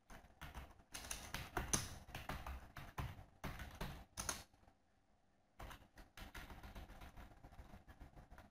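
Rapid keystrokes on a computer keyboard while commands are entered into a Linux terminal on an RHEL 6 system, clattering in quick dense bursts with one short pause midway, close and moderately quiet.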